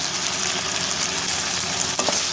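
Chili sauce and soy sauce being stirred in a hot frying pan, a constant loud sizzle with a spoon scraping and a sharper clink near the end, no voices.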